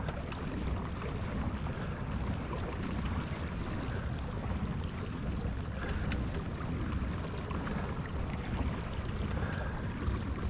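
Steady broadband wash of wind and water around a fishing kayak as it floats, with a constant low rumble and faint splashing; no voices.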